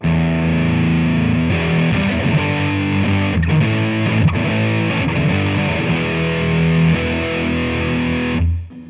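A distorted electric guitar plays through a Line 6 Flextone II amp with an effect set to 100%, loud chords and single notes ringing out before a quick fade at the end.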